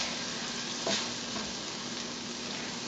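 Sautéed filling mixture for stuffed peppers sizzles steadily in a pan, a soft continuous hiss with a brief stir or scrape partway through, no voices.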